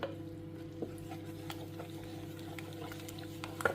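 A spoon stirs and mixes food in a pot in a food-service kitchen, giving soft scraping clicks and light wet patter over a steady low mechanical hum.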